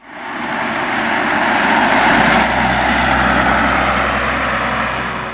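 A BMW E39 530d Touring diesel engine idles nearby, a steady low rumble that fades in and holds evenly on its own.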